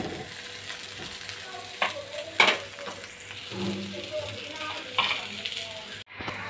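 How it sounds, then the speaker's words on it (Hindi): Onions browning in oil in a pan, a soft steady sizzle with occasional stirring clatter and scrapes, heard fairly close and quiet with no talk. "फिर मैं प्याज ब्राउन करूँगी।"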